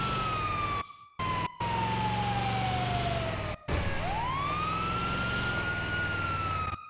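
An ambulance siren wails in a video game, a long descending tone that swoops back upward, loud and close over an engine hum, briefly cutting out in a few abrupt dropouts.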